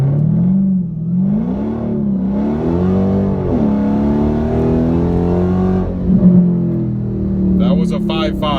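A 2019 Dodge Challenger Scat Pack muscle car in 500-horsepower mode launches hard on a street run, with heavy wheelspin. The engine drone rises and falls steadily for over eight seconds, loud and close, with no talk over it.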